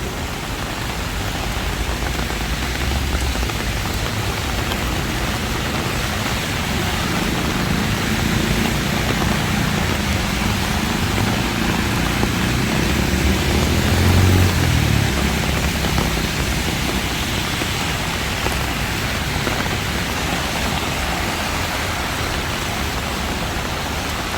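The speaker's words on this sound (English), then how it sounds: "it's been raining all day" Heavy monsoon rain in Bangkok, Thailand, pours in a dense, unbroken roar that stays loud and steady throughout.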